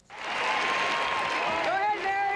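Crowd at a Giants baseball game at 3Com Park applauding and cheering, a loud sustained wash of clapping with a voice rising over it near the end.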